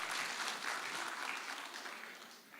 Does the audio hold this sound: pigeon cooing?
no